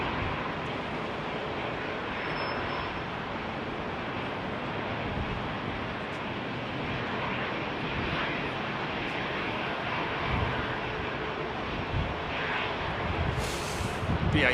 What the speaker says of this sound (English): BA 380 going out